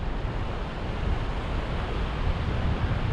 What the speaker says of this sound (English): So it's a little bit windy. I can feel a bit of a gust blowing down the beach